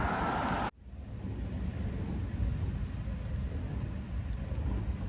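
Steady, dense rain falling outside a hotel during a storm on an Appalachian Trail trip, an even hiss that continues without break after a brief louder sound at the start.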